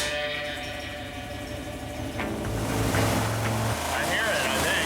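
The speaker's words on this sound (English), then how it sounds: "That penny is taking a pounding, but the engine's still running" A running engine with a penny dropped inside, a steady close mechanical drone that grows slightly rougher and louder partway through, with talking heard over it.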